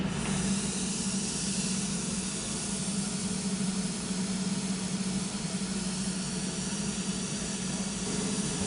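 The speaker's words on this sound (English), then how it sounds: "In a minute, you'll hear the mist start coming through the system." Aeroseal sealant mist hisses steadily through residential ductwork, a loud, continuous broadband rush with a low hum underneath, unbroken for the whole stretch.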